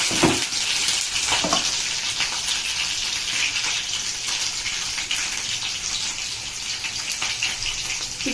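Mustard seeds, green chillies and drumstick leaves fry in mustard oil in a pan, a loud continuous sizzle full of crackling pops, with a few stirring clunks near the start.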